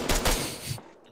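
A short, loud burst of video-game gunfire lands close and harsh, with shots seemingly glancing off armour, then cuts off into near silence.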